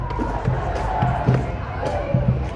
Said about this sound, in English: Look how much huger this crowd has gotten.